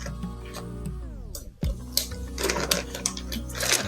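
A food vacuum sealer with a double seal runs its pump on a bag, giving a steady motor hum that winds down in pitch, then a sharp clunk and a few light clicks as the seal is made.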